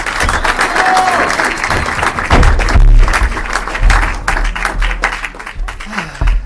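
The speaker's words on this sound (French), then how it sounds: "un tonnerre d'applaudissements pour Romain François" Audience at a comedy club in Montpellier breaks into loud, sustained applause and cheering that fills the room without pause, with scattered voices in the crowd.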